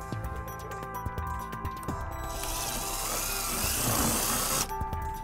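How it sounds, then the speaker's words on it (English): A power drill with a 3/16 bit whirs loudly for a couple of seconds, its high-pitched grinding rising as it bites into material, amid workshop clatter. "we're gonna drill our first hole using a 3/16 drill bit"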